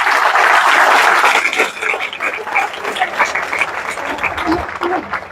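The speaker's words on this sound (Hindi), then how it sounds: "एक बार ताली बजाइए साहब" An audience in a hall claps loudly on cue at a public talk in India, the applause strongest at first and then thinning out into scattered claps and murmurs.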